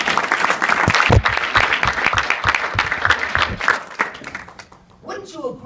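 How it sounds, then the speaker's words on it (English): A live audience at a hypnosis stage show claps in sustained, dense applause that fades out near the end, with a voice heard over it. "Give these guys another big round of applause."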